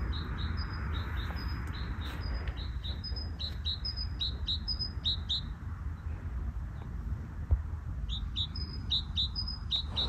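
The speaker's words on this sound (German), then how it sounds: "Der eine Vogel hat gerade geantwortet." Small birds trade repeated high chirping calls back and forth in short bursts, with one call answering another, over a low outdoor rumble in a snowy mountain setting.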